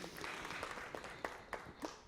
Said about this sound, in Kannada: ಅವ್ರಿಗೂ ಚಪ್ಪಾಳೆ ಬರಬೇಕು.